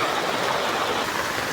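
Continuous heavy rain in Malaysia, a steady broadband hiss of water pouring down with no break, dense and even throughout with no voices.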